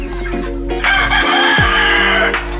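Chickens on a Filipino backyard farm, with a rooster crowing loudly and close among clucking hens, a steady busy poultry-yard sound throughout.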